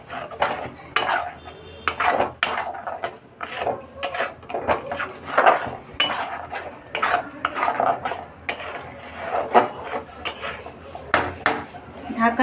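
Fig curry stirred in a pot, with loud, irregular metal clanks and scrapes of a spoon against the pot, ending in the knock of a lid being set on top.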